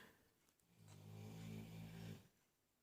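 Pet dogs snore softly nearby in a quiet room, one low rumbling breath swelling and fading over a couple of seconds.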